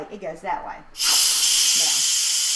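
Instant Pot pressure cooker venting steam on quick pressure release, a sudden loud, steady hiss that bursts in after brief talk and keeps roaring without letup.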